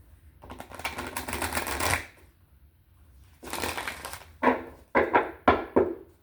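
Tarot cards being shuffled up close: a long riffling burst, a pause, then another shuffle ending in several sharp bridging flutters, with no talking.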